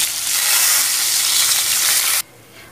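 Long strips of potato drop into hot oil already used for frying rohu fish, giving a loud, dense, hissing sizzle that cuts off sharply to a quieter simmer near the end.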